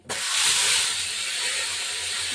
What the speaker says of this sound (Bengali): এবার আমি চিকেনগুলো ফ্রাই করে নিলাম